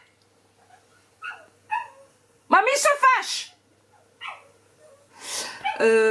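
A dog whines and yips, upset because another dog has come over with a visitor; short high whimpers and a few barks come and go between French speech, fairly close.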